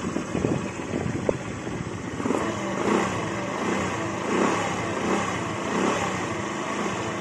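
Motorcycle engine idling after a carburetor adjustment, a soft steady putter with a faint rhythmic pulse, moderately close and fairly quiet, with no talking.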